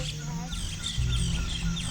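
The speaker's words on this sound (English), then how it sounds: "More birds here." Birds at Konoko Falls park in Ocho Rios, Jamaica, call with short, high chirps and tweets that repeat over a low steady background. The birds are moderately close and fairly quiet.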